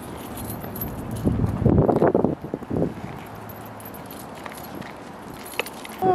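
Keys jangle and clink as they are handed over outdoors in a yard on a hot day, a short burst of metallic rattling near the middle, with light rustling and faint background noise around it.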